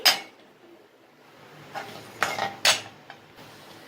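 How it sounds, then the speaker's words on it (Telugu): Metal spoon scraping and clinking against a pan of oil and coriander powder, several sharp clanks spaced irregularly over quiet stirring sounds. "బాగా మిక్స్ చేసుకోవాలి"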